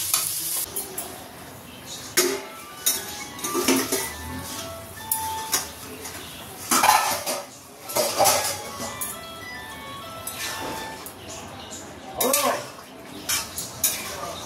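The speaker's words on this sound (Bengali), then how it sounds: "তো চলো মশলাটা ভালো করে কষিয়ে নিই" Spice masala for a spicy bhetki fish kalia being stirred and fried in a pan, with a spoon repeatedly scraping and clattering against the metal over a steady sizzle, no talking.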